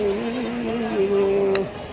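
Goats for sale at a crowded livestock market in Shirur taluka, Pune district, give a long, steady bleat that wavers slightly and carries close over the dense murmur of the busy marketplace.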